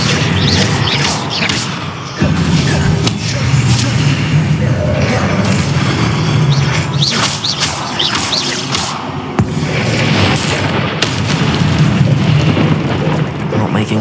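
Explosive Confringo spell blasts in Hogwarts Legacy, dense booming impacts and crashing bursts layered over continuous combat clatter and a player's shouted spell calls, loud and busy throughout.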